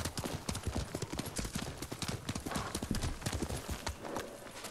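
Steady clip-clop of horse hooves on a hard surface in the video game Ghost of Tsushima, repeating in a quick rhythm, close and fairly loud, with game ambience underneath.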